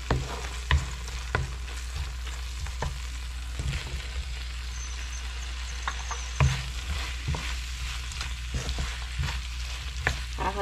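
Beef frying in a pan for curry, stirred with a utensil: a steady sizzle runs throughout, with sharp scraping and clinking strokes from the stirring at irregular intervals and no talk.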